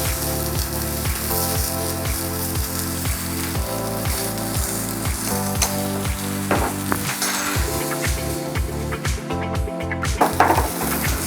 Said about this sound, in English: Let's get our chicken frying away.